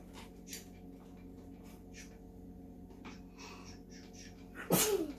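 One sharp sneeze bursts out near the end, loud and close, after several seconds of quiet rustling and soft breathing.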